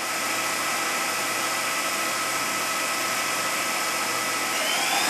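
A Daewoo ACE-H100 horizontal machining center spindle runs at a few thousand RPM, giving a steady, dense, broadband mechanical whine and hiss that holds even throughout, loud and close with no voices.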